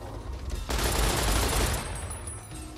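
Rapid automatic gunfire in Fallout: New Vegas, a dense burst of loud shots lasting over a second, then trailing off, no talk.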